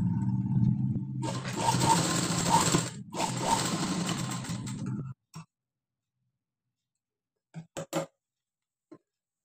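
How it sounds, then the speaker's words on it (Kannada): Sewing machine stitching a fancy blouse with blue thread, running steadily in a continuous mechanical whir for about five seconds, then stopping, followed by a few brief clicks and taps. "ಈ ರೀತಿಯಾಗಿ ಸ್ಟಿಚ್ ಮಾಡ್ಕೊಳ್ಳೋಣ"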